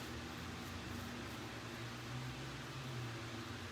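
A dryer blows continuously over a freshly base-coated painted wooden sign, a steady broadband whoosh with a low motor hum, even and close throughout.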